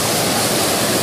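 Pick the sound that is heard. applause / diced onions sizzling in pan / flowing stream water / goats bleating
flowing stream water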